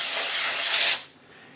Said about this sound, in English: take the Passload cordless tool cleaner, and we'll just go ahead and spray it in there liberally